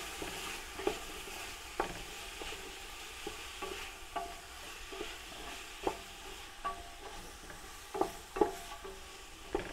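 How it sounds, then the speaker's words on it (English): Small onions and paprika fry in a pot for a Bulgarian monastery vegetable stew, a low steady sizzle broken by regular spoon taps and scrapes as the mixture is stirred, with no one talking. "Let's give that a wee mix through."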